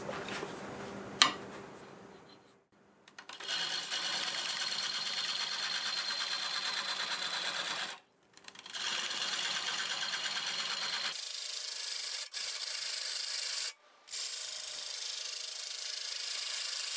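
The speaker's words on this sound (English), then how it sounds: "So I've got my freshly sharpened 5/8 bowl gouge, and let's see if we can get that cut away." A wood lathe turning at 550 with a freshly sharpened 5/8 bowl gouge cutting the wood makes a steady, close whirring scrape. The cut stops briefly a few times before resuming.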